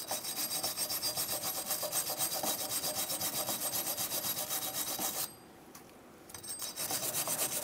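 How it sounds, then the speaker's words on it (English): An air-powered angle tool with a mild abrasive scrubs corrosion off a brake hub on a 2007-2015 Mazda CX-9, giving a steady, close rasping whir that briefly stops and then resumes. "come in with an air tool and just a mild abrasive to get rid of any corrosion"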